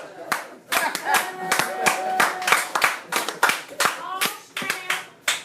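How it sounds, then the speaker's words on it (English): Audience applause at a comedy open mic: a burst of sharp, close hand claps from a small crowd, steady and dense for several seconds with uneven rhythm, no talking over it. "Pause for applause."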